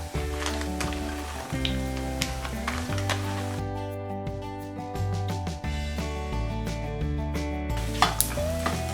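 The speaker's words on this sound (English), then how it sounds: "After 2 minutes, add 4 tablespoons of MTR Puliogare powder." MTR Puliogare powder is roasted and stirred in a pan, giving a soft continuous sizzle with scraping stirs throughout, heard close over steady background music, with no talk.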